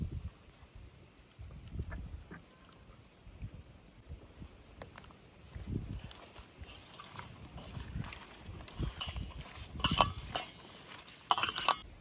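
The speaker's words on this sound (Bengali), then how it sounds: "মাছটা মাখিয়ে নেব হলুদ লবণ সর্ষের তেল" Hilsa fish pieces being rubbed by hand with turmeric, salt and mustard oil in a bowl, giving soft wet squelches and occasional light clinks of a utensil against the dish, close and fairly quiet.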